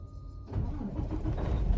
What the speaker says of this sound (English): the opti-idle's fixing to crank